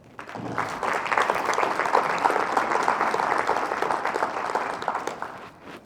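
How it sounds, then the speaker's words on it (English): An audience at a State of the City address breaks into a full round of applause for the public library, swelling quickly and holding strong and steady before tapering off. "Round of applause for the library."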